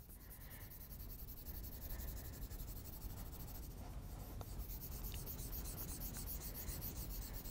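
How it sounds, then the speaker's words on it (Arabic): Coloring on paper, filling in the number three in red, makes a continuous soft scratchy rubbing of strokes, close and fairly quiet, with no talk. "وسأبدأ بتلوين العدد ثلاثة باللون الأحمر"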